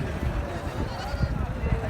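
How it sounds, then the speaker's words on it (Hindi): Goats bleating at the Tando Adam livestock market, with several overlapping calls in a noisy crowd, heard under steady talk. "ये वाली चेक करें माशाल्लाह खूबसूरत बकरी।"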